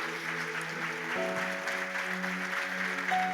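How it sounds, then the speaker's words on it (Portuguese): A church congregation applauds in a steady wash of clapping, blended with sustained music tones playing underneath. "Você pode dar uma salva de palmas para Jesus?"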